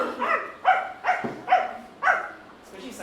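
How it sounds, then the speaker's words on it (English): A dog barks about six times in quick, irregular bursts, yelpy and fairly close, at a house left alone by its owners on a quiet day, with no one talking. "peaceful and tranquil until the dogs start barking"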